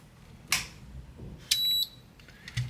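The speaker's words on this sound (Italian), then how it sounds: "abbiamo sentito il beep" A Midea/Olimpia air conditioner control board being powered up during repair gives short electronic beeps: a brief tone near the start, then a longer steady beep with overtones about a second later, over a low background hum.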